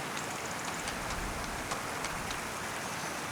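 A modded waterfall in a farming video game gives a steady, dense rush of falling water with a rain-like hiss, constant and close, with faint ticking droplets scattered through it and nothing else heard.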